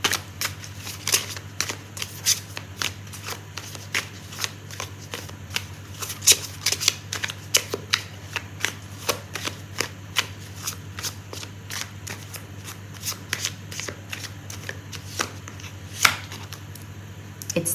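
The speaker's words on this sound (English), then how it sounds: "Now I'm going to pull out a card for timing." Tarot cards are shuffled by hand during a reading, a rapid series of crisp papery riffles and flicks close up, repeating in quick bursts with no talk over them.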